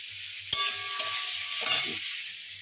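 Ground ginger paste, turmeric, cumin and chili powder sizzle in a pan with boiled potatoes, a steady hiss broken by a few clattering stirs and scrapes, close up and free of voices.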